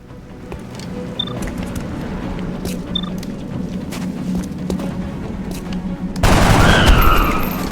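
Shotgun fire in the turn-based strategy game XCOM Enemy Within, heard as a burst of scattered clicks and thuds, then a heavy, loud blast near the end that rings out briefly.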